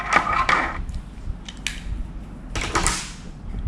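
Small screws being backed out of a Nacon Revolution Unlimited Pro controller during disassembly: close, faint scraping, creaking and clicking in a few short bursts over quiet room noise.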